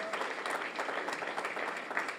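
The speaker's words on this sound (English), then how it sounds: "Let us give them a very, very loud round of applause" A graduation audience at a nurse practitioner ceremony gives a round of applause, a dense, even wash of many hands clapping, fairly faint and distant in the room, sustained throughout.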